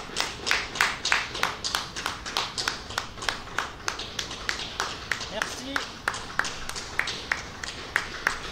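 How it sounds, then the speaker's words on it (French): Steady, rhythmic clapping from a crowd outside during the April 2020 lockdown, a few claps per second at a distance, with a person talking over it. "Oh, ça applaudit dehors."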